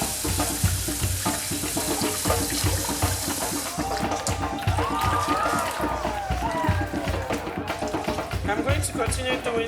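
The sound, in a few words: washing rice in water to remove starch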